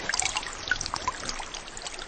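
Water trickles and splashes in short, uneven pours, close and fairly loud, with a few bright droplet splashes and no talk.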